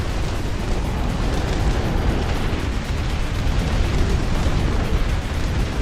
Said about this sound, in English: The power fantasy of being able to send artillery like that downrange for massive effect.